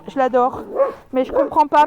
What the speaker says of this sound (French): elle aboie parce qu'elle a vu les chats de l'autre côté